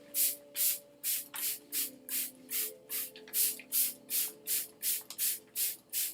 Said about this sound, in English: does it need a little bit of a spray?